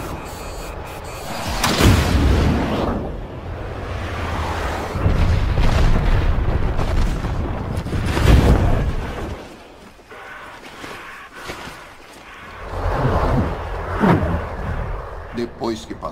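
A science fiction film explosion roars in heavy, rolling booms that swell, fade and surge again across the scene, loud and close, with deep rumbling bursts layered over one another.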